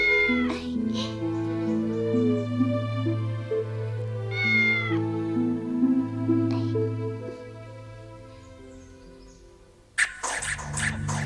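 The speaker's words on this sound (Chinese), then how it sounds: "你这只小猫太顽皮了吧，到处乱跑，怎么教也教不好。" A cat meows repeatedly with drawn-out, wavering cries over a sustained musical drone, ending with a sudden louder noisy burst.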